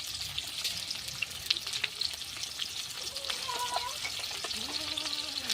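Sliced onion sizzles and crackles in hot oil as tempering for a hilsa fish curry with eggplant and potato, a steady close frying hiss with small pops and a few brief tonal sounds near the end.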